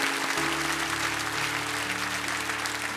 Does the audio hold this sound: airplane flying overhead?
no